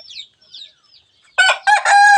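A rooster crows loudly and close by in a long, strained call on an early morning as rain approaches, preceded by a few faint chirps and clucks.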